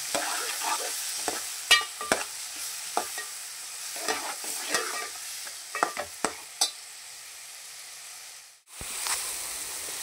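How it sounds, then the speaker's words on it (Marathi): Chopped tomatoes frying in a pan for pav bhaji, a steady close sizzle broken by scraping stirs and spatula taps, going briefly quiet near the end before the sizzle returns. "टमाट्याचा चांगला गाळ होईपर्यंत ह्याला फ्राय करायचं."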